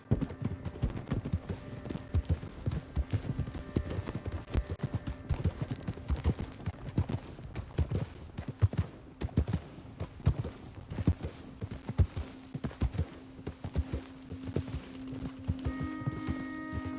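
Horse hooves clip-clopping at a steady walking rhythm in Red Dead Redemption II, moderately close and continuous for the whole stretch, with a faint tonal hum running underneath and no talking.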